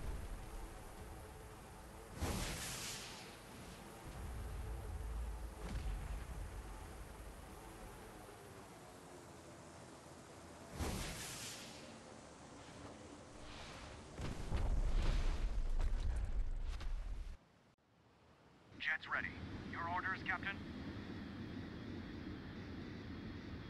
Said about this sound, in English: You're gonna start with the rocket first before you drop the bomb.